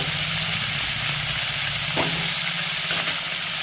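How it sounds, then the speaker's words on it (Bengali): Small river fish (chuno maach) frying in hot oil in a pan, a steady close sizzle and crackle throughout with a couple of brief stirring scrapes, no talking. "চলো তাহলে ভাজা হোক বন্ধুরা"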